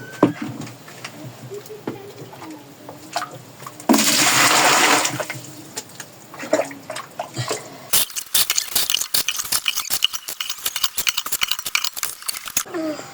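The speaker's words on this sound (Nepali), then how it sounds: "म यसमा चाहिँ बाल्टिङमा चाहिँ पानी झिक्छु।" Heated water is scooped and poured into a bucket in a village home: a steady rushing pour for about a second, then a quieter pause, then a long run of splashy, clattering scoops and sloshes close by.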